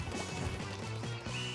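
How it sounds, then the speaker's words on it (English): An explosion in the video game Splatoon 2 Octo Expansion bursts out as a short crashing smash amid busy game music and effects. "Ooh, that explosion at the last bit."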